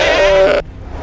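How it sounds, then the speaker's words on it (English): A goat death cry from the video game Minecraft, a single loud, close bleat lasting about half a second that cuts off abruptly. "This is a goat death."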